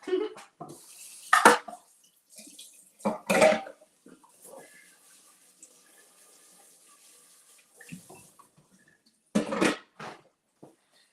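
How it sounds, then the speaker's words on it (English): Something is rinsed under a running kitchen tap in short intermittent bursts of splashing water with a few clatters, close by, mixed with brief coughs and sparse talk between quieter gaps. "let me just rinse this off"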